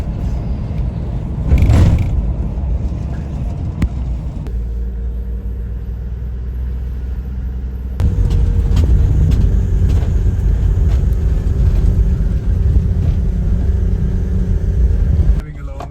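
A car drives along with a steady low engine and road rumble, loud and close from inside, shifting in level partway through, with some voices mixed in.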